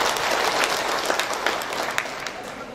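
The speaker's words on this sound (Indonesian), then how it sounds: "tepuk tangan dulu untuk penanya" An audience claps for a questioner at an Indonesian talk, a dense, even round of applause lasting a few seconds at steady loudness.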